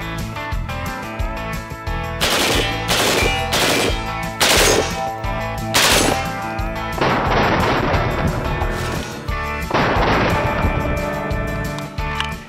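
Gunfire from a Fallout NCR service rifle, heard as a series of loud, close, sharp reports with booming tails over a dense background of music or game sound, with no talk.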